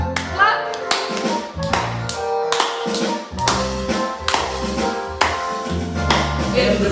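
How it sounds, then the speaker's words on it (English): Hand claps land in a steady rhythm over a live children's farmyard sing-along, sharp and close, mixed with a singing voice and a musical accompaniment. "So everybody clap."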